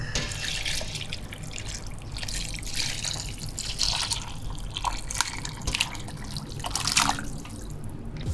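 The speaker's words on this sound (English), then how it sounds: "And lastly, broth goes back in." Beef broth pours back into a pot of grass-fed beef birria, a steady close liquid splashing and trickling that runs continuously with brief louder gushes.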